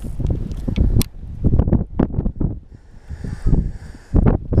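Strong wind buffets the microphone in heavy, uneven gusts at a fishing spot, rumbling and roaring in bursts with brief lulls between.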